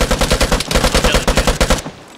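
Rapid automatic fire from a PPSh submachine gun in a shooter video game, a loud, close, steady burst of evenly spaced shots that stops abruptly just before the end.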